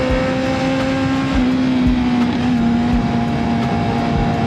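A Honda CB650R four-cylinder motorcycle engine runs steadily nearby, a loud, sustained droning hum with a constant pitch and faint rhythmic pulses, heard alone without speech.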